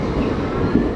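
A steady, loud rumble of an Indian commuter train fills a short moment, continuous wheel and carriage noise with no break.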